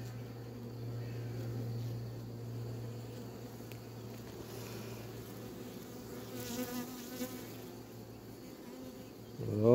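Honey bees buzzing in an open hive while a queen is sought for a queen-rearing split, a continuous close droning hum with shifting wingbeat tones, no talk.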